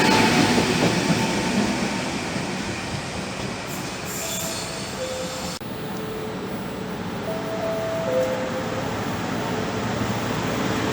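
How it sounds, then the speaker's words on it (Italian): An Italo high-speed passenger train moves through a station near Padua with a steady rolling rumble and faint high wheel squeals. Quiet tones chime briefly. "Il treno italo alta velocità 8904, di nuovo trasporto viaggiatori proveniente da Roma Termini"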